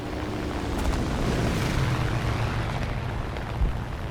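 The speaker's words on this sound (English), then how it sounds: "it's time to release these little farty bombs and see if we can kill anything with them." In the War Thunder game, bombs dropped from a BTD-1 plane explode amid a constant roar of aircraft engine, the blasts dull and muffled, with a low thump near the end.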